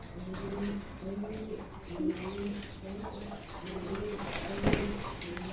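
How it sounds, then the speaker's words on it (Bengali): Archangel pigeons coo steadily in low, throaty repeated phrases, several birds overlapping at close range with no talking. "এই কালারের আর্চেঞ্জেল কবুতর দেখেন খুবই সুন্দর"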